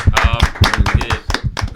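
Several people clap in a short burst of applause at a small live gathering in a house, the claps close and uneven.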